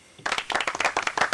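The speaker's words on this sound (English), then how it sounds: "Round of applause for Eddie" A short burst of hand clapping for Eddie from a studio audience, starting abruptly and continuing in quick, fairly close claps.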